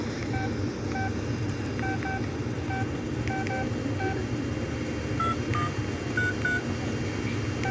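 Keypad tones sound on a Consumer Cellular Iris flip phone as digits are entered: a series of short, distinct beeps in irregular clusters over a steady background hum, with no voices.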